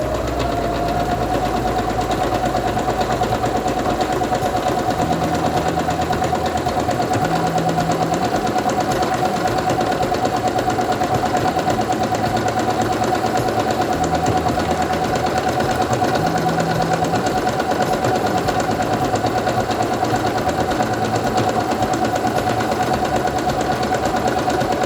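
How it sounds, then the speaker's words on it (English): A Quantum Stylist 9960 sewing machine stitches fabric in a steady, fast mechanical whir that runs unbroken and close up for the whole stretch. "I'm going to take my fabric and put it under the presser foot, lower it, and begin sewing."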